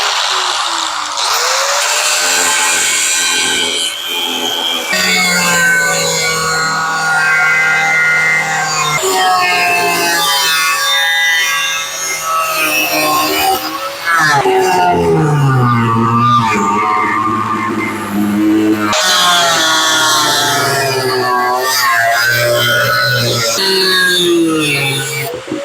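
A power tool cuts through an old metal motorcycle gas tank, slicing it into three pieces, with loud sustained grinding and whining that changes pitch in several long passes separated by brief pauses.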